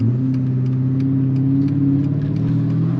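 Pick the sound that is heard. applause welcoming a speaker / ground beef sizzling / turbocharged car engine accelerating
turbocharged car engine accelerating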